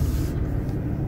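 A 2018 BMW M4 Coupe with Executive Package pulls away on a test drive, giving a low, steady engine and road rumble close by with no talking.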